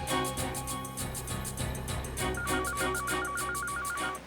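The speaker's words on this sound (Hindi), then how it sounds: "बेल बज रही है सर।" A telephone rings in a hospital corridor, a steady electronic ringtone repeating in even bursts over a busy background.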